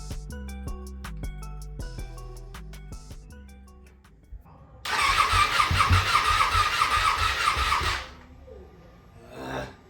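A Ducati Panigale 959 sport motorcycle with a dead battery fails to start: after a stretch of other sounds, a loud, harsh, steady cranking noise runs for a few seconds and then cuts off without the engine catching.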